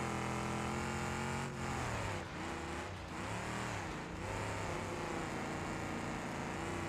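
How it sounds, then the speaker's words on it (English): Racing cars in a video game roar steadily and loudly, engines rising and falling in pitch as they rev and shift, with no talking. "Hopefully you can hear the car's engines."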